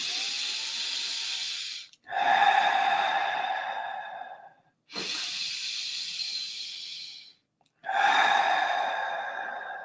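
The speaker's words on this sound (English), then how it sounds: "A few more deep breaths." Three long, deep breaths, each a loud, close, airy hiss of inhaling and exhaling, separated by short silences during a guided meditation.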